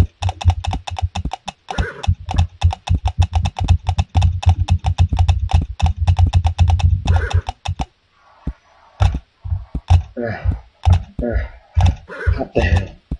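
Horse hooves in the game CLOP, a loud, rapid run of sharp clip-clops for several seconds, then a brief pause followed by slower, scattered hoof knocks.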